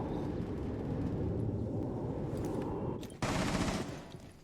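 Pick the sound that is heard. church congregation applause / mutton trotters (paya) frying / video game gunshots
video game gunshots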